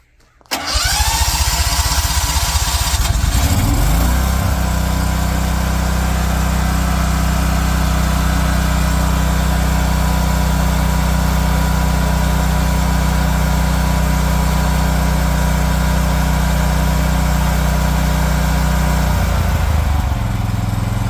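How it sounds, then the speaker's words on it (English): A propane standby generator cranks briefly, catches and settles into a loud, steady idle that runs close and uninterrupted for about twenty seconds. "Here, I'll start it, show you it runs."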